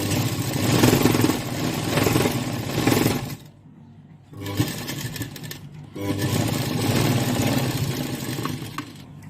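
An electric sewing machine stitches a mirror work blouse in long, loud, close whirring runs. It stops briefly twice before starting up again.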